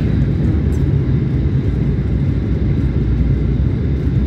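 High-speed train running at about 300 km/h on the way to Madrid, heard from inside as a steady, loud low rumble with broadband roar that holds constant throughout.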